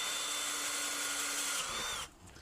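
Power drill boring a hole in a backyard shed workshop, a loud steady high whine for about two seconds that winds down and stops abruptly.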